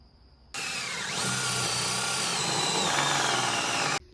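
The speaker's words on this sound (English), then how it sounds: "So I'm going to go ahead and do a test drill." A power drill spins up abruptly and whines steadily through a van's body for a few seconds, close by, drilling a test hole, then cuts off.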